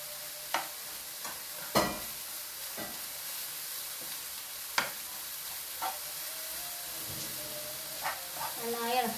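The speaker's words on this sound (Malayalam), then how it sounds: "നന്നായി ഇളക്കി കൊടുക്കുക" Jaggery and grated coconut being stirred together in a pan for a wheat-flour ela ada, with a faint, steady sizzle and occasional sharp scrapes and knocks of the spoon against the pan.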